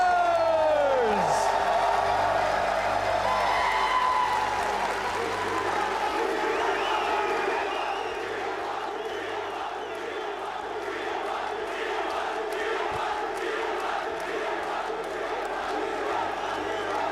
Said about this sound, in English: And you can just hear the crowd.